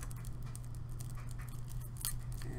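Soft scissor snips cutting packaging at close range over a steady low hum, with a few small crisp cuts standing out near the end.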